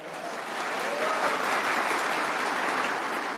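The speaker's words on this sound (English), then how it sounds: "You absolutely can applaud for that, you bet" Audience at the Turning Point AmericaFest 2025 event applauding steadily, a dense, even wash of clapping that holds for several seconds without a break.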